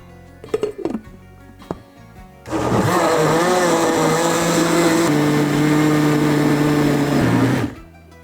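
A large industrial blender whirs loudly and steadily for several seconds as it blends a creamy mixture, then cuts off, after a few knocks and clicks at the start.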